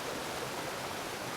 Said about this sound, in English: it was super windy today and now it is pouring raining outside.